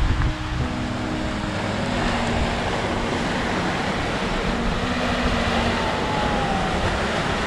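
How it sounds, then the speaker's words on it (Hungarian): Strong wind buffets the microphone on a Greek beach near Stavros, a constant loud rushing roar with gusty rumble that stays steady throughout. "Csak nagyon szeles az idő."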